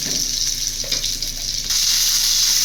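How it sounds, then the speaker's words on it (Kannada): Onions sizzle in hot oil with mustard seeds and curry leaves for a bitter gourd gojju, a steady close frying hiss that holds through the whole stretch and grows slightly louder near the end. "ನಂತರ ಈರುಳ್ಳಿ ಹಾಕೊಳ್ತಾ ಇದ್ದೀನಿ ಸ್ವಲ್ಪ ಒಂದೆರಡು ನಿಮಿಷ ಫ್ರೈ ಆಗಬೇಕು ಎಣ್ಣೆಗೆ"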